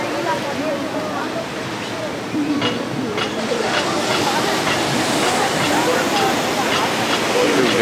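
Ocean surf at Santa Monica, a steady broadband wash of breaking waves that swells slightly louder over time, with helicopters around and faint voices underneath.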